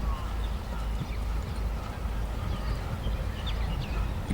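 A dressage horse performs a piaffe, its hooves beating in a soft, rhythmic trot on the spot, set back in the distance under a steady outdoor hum with faint birdsong.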